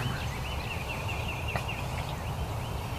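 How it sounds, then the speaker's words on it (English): Wild turkeys gobbling at daylight near a field, distant rippling calls over a steady background of birdsong and outdoor ambience, with no talking. "We've already got birds gobbling."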